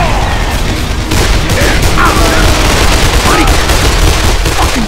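Heavy gunfire in the Xbox 360 game Call of Juarez: The Cartel, loud continuous shots and booms with shouted voices mixed in.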